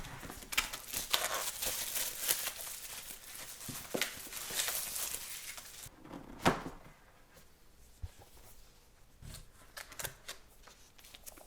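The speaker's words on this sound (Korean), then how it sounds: "마지막으로 매직 키보드를 한번 언박싱 해 보도록 하겠습니다" Packaging for an Apple Magic Keyboard being unboxed, with close, irregular crinkling, rustling and tearing of wrap and paper, plus a few soft thumps from handling the box. No one talks over it.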